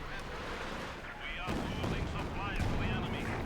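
Artillery fire during a Company of Heroes 2 match between OKW and Soviet forces: rumbling booms and a sharp impact crack, with a commentator talking over the battle noise.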